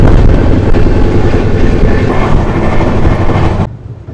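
The 22618 SMVT Bengaluru–Tirupati Intercity Express runs on its rails with a loud, steady, broadband rumble and roar. The noise holds close and constant, then drops away sharply just before the end.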